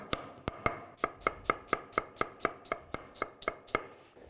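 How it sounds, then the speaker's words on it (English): A knife julienne-cutting a red onion on a cutting board, making a steady run of about sixteen crisp, evenly paced chops, close and clear, with no talking. "You can like cut it like just in a julienne like that."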